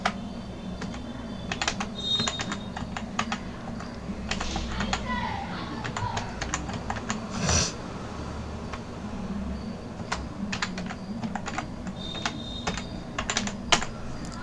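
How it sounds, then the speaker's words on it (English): Computer keyboard typing while an email ID is entered into an online class 1 admission form: steady, fairly quiet clusters of key clicks across the whole stretch, with a low room hum underneath and no talking. "Here you have to type your own email ID."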